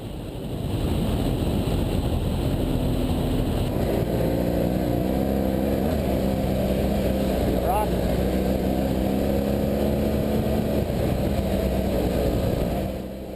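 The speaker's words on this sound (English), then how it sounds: "his RPMs here are incredibly low. You can barely hear the engine." A low, steady BMW motorcycle engine rumble at low RPM with slowly shifting pitch, mixed with road and wind noise on an off-road trail.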